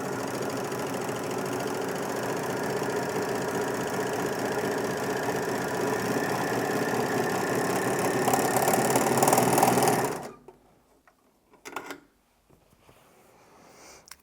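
A Bernina L450 overlocker stitches a fabric test run in one steady, loud whirring burst lasting about ten seconds, then stops abruptly; a faint clunk follows.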